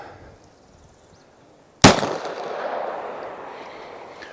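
A single sharp, loud pistol shot of 9mm CorBon 125 grain +P ammunition fired into ballistic gel, preceded by quiet room tone and followed by a decaying echo tail.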